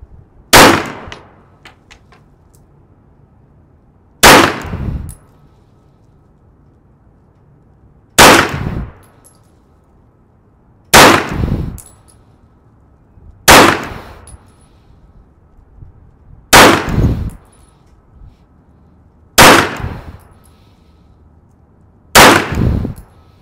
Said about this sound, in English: Let's see what kind of groups we can shoot here at 10 yards.